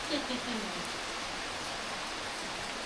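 Rain falls steadily outdoors while tamarind is being processed, a faint, even hiss of drops with no other clear sounds.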